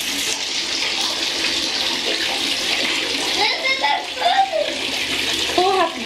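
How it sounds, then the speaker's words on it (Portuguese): Water fills a bathtub holding gel balls (Orbeez), a loud steady rushing splash throughout, while a voice and other voices chatter faintly underneath. "Então eu agora vou colocar na banheira."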